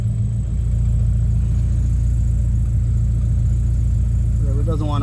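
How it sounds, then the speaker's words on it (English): A cold Nissan S13 Silvia idles while warming up, its engine running as a loud, steady low rumble throughout, with a person talking briefly at the end. "it's still trying to find its idle as it warms up"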